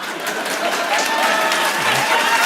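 Studio audience at a late-night comedy show clapping in sustained, dense applause throughout, loud and close.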